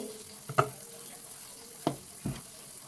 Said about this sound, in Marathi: इथे पाण्याला छान उकळी येऊ लागली आहे